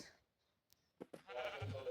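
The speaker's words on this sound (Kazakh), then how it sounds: "Бізде 6 қой." Sheep in Minecraft bleat in a few short, close calls, followed by a louder, denser stretch of blocky game noise toward the end.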